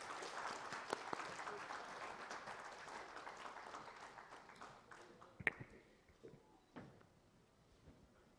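Audience applause at a chemicals and petrochemicals manufacturing summit, a dense crowd clapping for several seconds that thins and fades, leaving a few scattered claps and knocks near the end.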